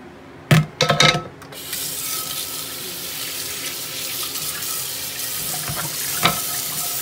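A kitchen sink tap runs steadily while a dish is washed under it, opening with a few clattering knocks and splashes before settling into a continuous close stream with one more clunk near the end.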